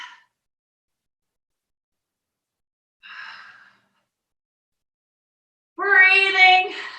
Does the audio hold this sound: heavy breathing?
yes